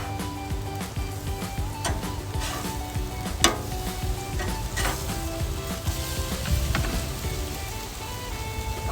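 Food sizzles steadily on a hot Blackstone griddle, a dense continuous crackle with a few sharper pops and light clatter, close by with no talking.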